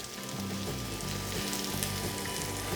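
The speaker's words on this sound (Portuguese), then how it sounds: "eu vou acrescentar uma cebola picada" Chopped onion hitting hot oil in a pan already fragrant with garlic, a steady dense sizzle and crackle throughout, close and unbroken with no talk.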